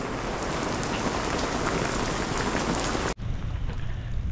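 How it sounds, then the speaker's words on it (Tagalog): Heavy rain pours steadily in the Baguio botanical garden near Camp John Hay, a dense, loud hiss of drops on surfaces that cuts off abruptly near the end, then continues more softly. "Lakas pa yung ulan."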